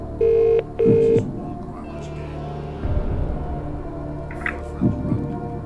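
On a quiz game show, a telephone call is placed: two clear electronic dial or ring tones sound, followed by a faint line hum and soft background noise.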